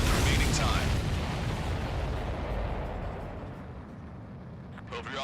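Explosions in the Ace Combat 7 video game, a dense, sustained roar of blasts and rumbling booms that fills the whole stretch and gradually eases, with game radio chatter faintly underneath.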